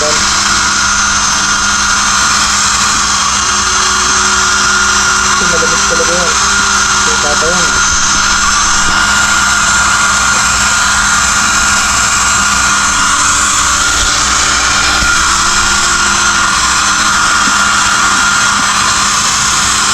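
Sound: blower drying wet puppies

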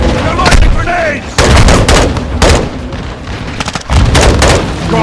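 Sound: gunfire and grenade launches in video game Modern Warfare 2

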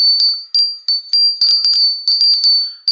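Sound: hanging Father Christmas bell ringing

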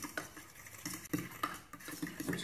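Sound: stirring milk and egg batter with a spoon in bowl

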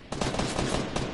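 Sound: gunfire, likely from a video game

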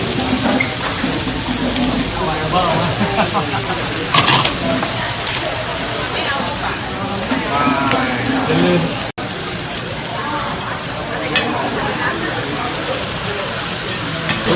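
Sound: ingredients being stir-fried in a pan at a Taiwanese shabu restaurant

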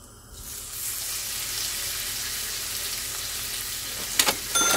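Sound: lamb chops frying in butter

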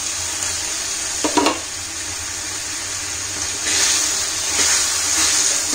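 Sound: mini wheat idlis added to hot oil in a heavy kadai

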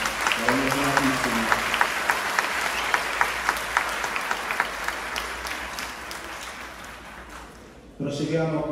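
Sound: applause at a school event

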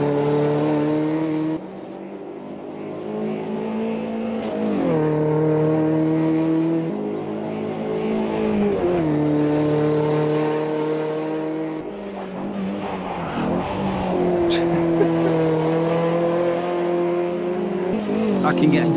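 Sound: race car sliding sideways in video game Automobilista 2

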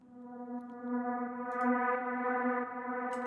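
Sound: heavy reverb effect on reggaeton intro sound

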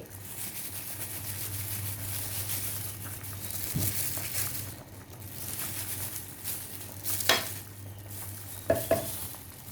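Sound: stirring jackfruit curry with acacia and betel leaves

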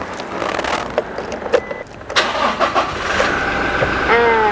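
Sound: pickup truck engine starting and idling

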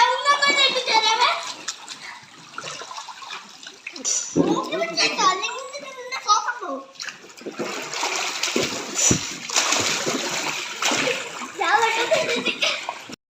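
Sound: splashing in water of a makeshift home swimming pool

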